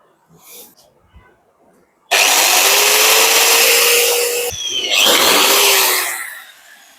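A power drill bores a hole into an appliance casing near its circuit board, a loud steady whine that starts abruptly, dips briefly midway, then resumes and fades out.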